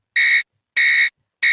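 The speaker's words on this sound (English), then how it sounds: "Hoping that the alarm isn't going off still, because I muted it." A buzzing electronic alarm sounds in loud, evenly spaced beeps, each lasting about a third of a second, with three bursts in quick succession and silence between them.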